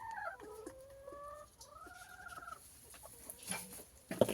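A laying hen clucks close by in a henhouse, a string of drawn-out, rising-and-falling calls followed by a few sharper squawks, with faint rustling behind.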